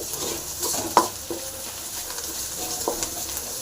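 Quiet sizzling of food in a pan with a few scraping stirs and a sharp clink of a utensil against metal.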